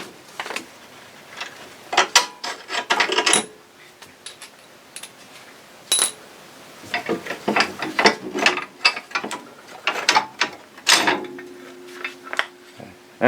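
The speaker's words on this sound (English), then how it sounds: "we can go ahead and remove the bolts that hold this top A-arm in" A ratchet works loose the bolts holding the top A-arm on a Polaris ATV during a rear bushing job, giving bursts of rapid clicking that stop and start through the clip, close and fairly loud, with no talking.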